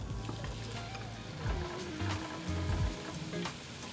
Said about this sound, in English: Just let that pork sizzle away for a little while.